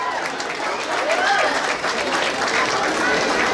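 Applause and cheering for a girl's quinceañera at a party in Durango, a loud dense crowd clapping steadily throughout with voices mixed in.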